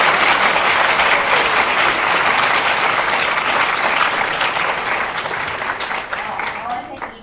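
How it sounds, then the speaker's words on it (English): An audience at a women-in-gaming speaker panel applauds the panelists, a dense, steady burst of clapping that fills the room and slowly tapers off toward the end. "Can I get a round of applause for the panelists?"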